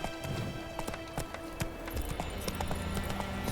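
Hooves of Geralt's horse Roach in The Witcher 3, a steady clip-clop of trotting steps on hard ground, fairly quiet and close, with faint ambient noise around.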